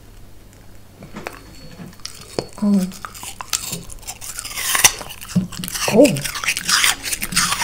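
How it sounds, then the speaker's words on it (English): A French bulldog puppy bites into a crunchy apple, giving scattered close crunches and chewing squishes in short bursts, with a person's brief exclamations over the top. "Should we go in with a crunchy apple?"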